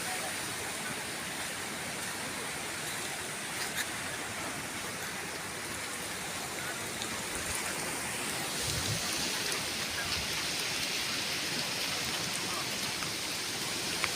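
Steady heavy rain pouring down during Cyclone Dana in a village, a dense, even hiss of drops on surfaces that continues without pause, close and fairly loud.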